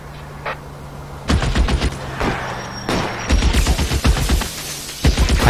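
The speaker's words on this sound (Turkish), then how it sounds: "Hadi biraz çatışma yapalım." Gunfire in a shootout in the video game L.A. Noire: a faint siren-like tone first, then dense bursts of rapid shots, loud and close, with brief pauses between volleys.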